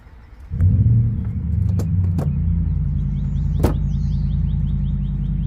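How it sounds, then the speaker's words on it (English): Front bumper cover being pulled off a 2015 Ford Focus: a low steady rumble fills the clip, broken by a few sharp snaps and clicks of plastic clips releasing, with one louder pop near the end. "go ahead and start to pull the bumper from the car"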